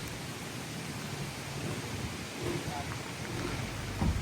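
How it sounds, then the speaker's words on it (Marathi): Steady rain falls with a broad, even hiss and a low rumble underneath, moderately loud and continuous throughout, at Karon View Point, Phuket. "आत्ता इथं पाऊस पडतोय"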